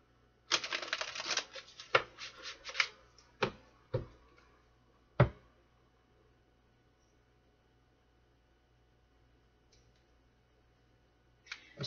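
Tarot cards are shuffled in a few quick riffling bursts followed by sharp single taps, close and quiet, then silence.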